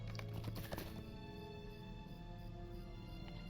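Horse hooves clip-clopping at a steady ride in the Lord of the Rings Online game, a close, continuous rhythmic patter under game ambience with a brief louder burst near the start.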